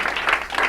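A short burst of audience applause for stand-up comedian Marsha Wilkie at an evening variety show. It is a steady, dense wash of clapping that lasts under a second.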